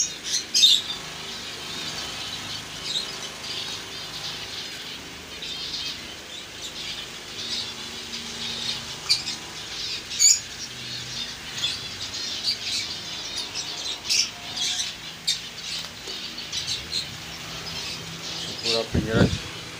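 Four breeding pairs of white finches in cage-by-cage breeding setups in a colony in Karachi give a steady, busy stream of thin, high chirps and tweets, close by and overlapping throughout.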